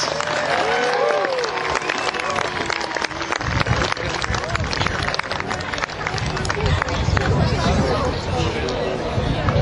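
A large outdoor crowd at a 2014 medieval fayre in Doonside cheers and applauds for performers playing Greeks, Persians and archers, a loud, continuous wash of clapping, shouts and babble that holds steady throughout.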